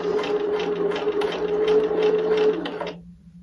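A sewing machine stitches bias binding folded over cord in a steady fast hum of needle strokes for about three seconds, then stops abruptly, leaving a faint background drone.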